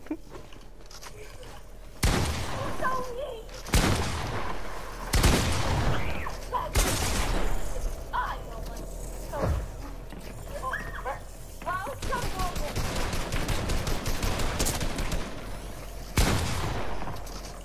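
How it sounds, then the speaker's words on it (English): Shotgun blasts in a first-person video game, about six loud, sharp booms spaced a second or two apart over a steady background of game noise. "You just used the shotgun more"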